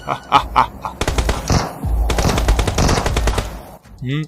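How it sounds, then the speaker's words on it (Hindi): Rapid automatic gunfire in a video game battle on a map with Godzilla, loud bursts and sustained firing, with a short voice near the end. "ये फायरिंग कैसी?"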